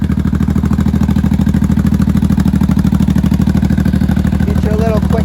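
A 1983 Honda motorcycle engine idles with a fast, even putter and loud, close exhaust pulses, holding steady throughout, with a brief voice near the end.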